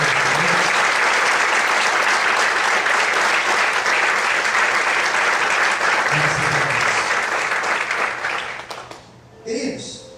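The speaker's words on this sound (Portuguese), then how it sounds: "Você pode aplaudir." A church congregation claps loudly and steadily for about eight seconds during a service. The applause then fades, and a voice briefly speaks at the end.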